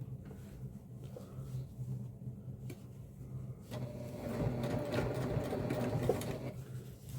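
A sewing machine top stitching a messenger bag pocket, starting with short bursts of needle chatter and then running steadily, a quiet close hum with rapid rhythmic stitching.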